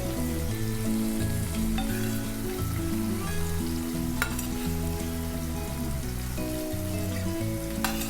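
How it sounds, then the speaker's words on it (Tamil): Paneer marinated in pepper shallow frying in a pan, a steady close sizzle and crackle running throughout with a few sharper spits, no voices. "அதுக்காக நம்ம முன்னாடியே பன்னீரை மேரினேட் பண்ணி ஃப்ரை பண்ணுறோம் பெப்பரில்."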